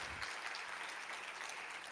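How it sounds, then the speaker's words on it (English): Steady applause from an audience, dense continuous clapping filling the whole moment without a break. "a huge round of applause"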